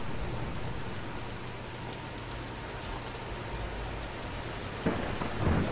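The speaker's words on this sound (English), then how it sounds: "let's wait out the storm" A thunderstorm in the video game Tomb Raider brings steady, dense rainfall with low rumbling thunder underneath and a sharper crack near the end, with no voices.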